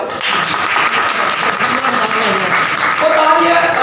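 A seminar audience at a library applauds with steady, dense clapping that fills the room for several seconds, while voices carry on underneath.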